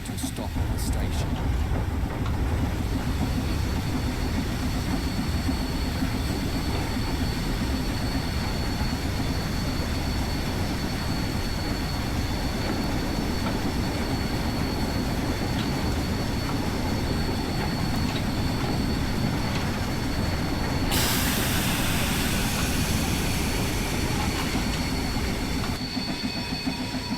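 A steam locomotive in Train Sim World 5 rumbles and rattles along the rails with low wheel noise and clatter, a steady heavy drone for the whole stretch, with a brighter hiss or squeal rising near the end as it brakes.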